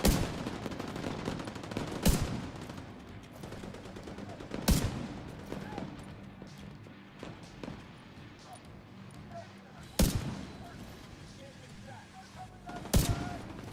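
Gunfire in The Division 2 video game: sharp, isolated shots and short bursts, four or five strong cracks spaced a few seconds apart, mixed with quieter game noise and someone talking over the action.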